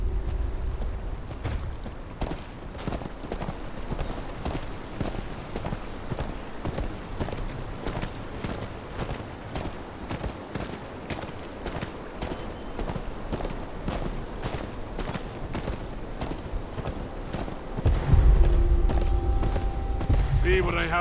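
Horse hooves clip-clop in a steady walking rhythm throughout the Game of Thrones: Kingsroad video game, with game music and a louder thump near the end.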